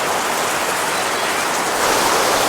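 Heavy rain falling outside, a dense, steady roar of rain that fills the whole moment at constant loudness.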